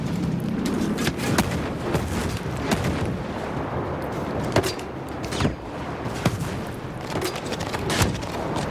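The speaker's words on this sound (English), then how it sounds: "Mortar fire coming in." Incoming mortar fire in the video game Ghost Recon Breakpoint, a steady barrage of booming impacts and gunfire with repeated sharp blasts over continuous rumbling battle noise.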